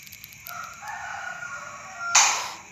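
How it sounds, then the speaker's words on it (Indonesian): A rooster crows once in the early morning, a rising drawn-out cock-a-doodle-doo at moderate distance, ending with a sharper louder burst, with no talking. "Aduh, suara ayam tuh."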